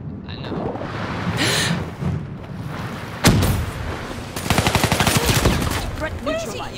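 AK assault rifle fire in Black Ops 3 comes as sharp shots and a rapid automatic burst near the end, set against game ambience, with voices talking between the shots.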